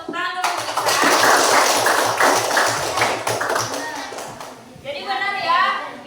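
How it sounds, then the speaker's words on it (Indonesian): Applause from a classroom group praising a child during a coding and computational thinking lesson, a dense burst of clapping lasting several seconds before a voice and other speech come in. "Tepuk tangan dulu Isa."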